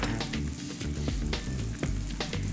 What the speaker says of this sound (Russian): Жарим до готовности.